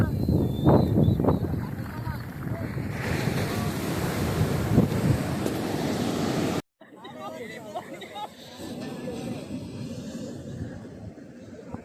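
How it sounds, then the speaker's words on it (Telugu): Strong sea waves surge and wash up a beach near Kanyakumari, a continuous loud roar with heavy wind buffeting the microphone and faint crowd babble, briefly cutting out midway before resuming. "చూడండి అలలు గట్టి వస్తున్నాయి, కాళ్ళ కింద చల్ల అవుతాయి."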